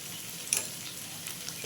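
Spices cooked down with papaya and mung dal in a pan, giving a brief, even low sizzle with one sharp scrape of a spoon near the middle, close by and without speech.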